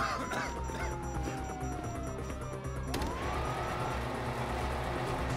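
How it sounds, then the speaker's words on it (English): A police siren in the video game GTA V wails, its pitch sweeping down and then rising again, with engine rumble and background noise beneath. "You hear that? Sirens!"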